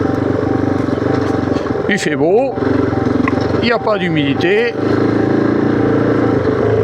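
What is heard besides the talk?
Kove 450 motorcycle riding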